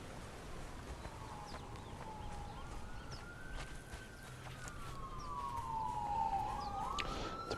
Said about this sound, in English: The police are driving past my house.